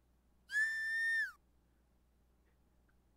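A single high, whistle-like scream rings out in a fantasy RPG, one sustained piercing tone lasting under a second that bends downward at its end, heard alone against near silence.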